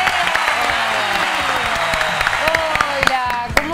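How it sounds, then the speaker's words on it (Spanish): Studio audience applauding a guest mother and her baby on a television program, loud dense clapping running throughout with sharp individual claps standing out, while people talk over it. "¿Los aplaudimos?"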